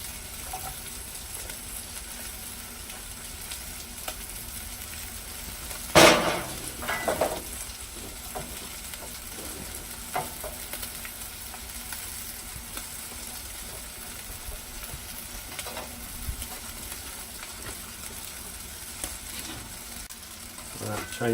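Mushrooms sizzle on a hot Blackstone griddle outdoors, a steady crackling hiss, with a sharp clatter as they go on and occasional scraping of a utensil.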